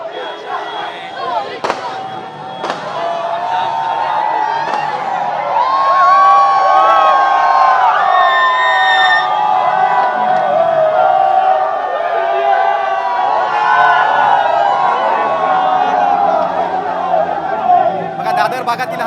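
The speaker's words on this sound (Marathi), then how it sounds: "दादर भागातील हा क्रिकेट चाहत्यांचा जल्लोष आपण पाहतोय." Cricket fans in Dadar celebrate India's ICC Champions Trophy 2025 final win over New Zealand with a loud, sustained street crowd of cheers, shouts and chatter, with occasional pops of firecrackers and a voice talking over it.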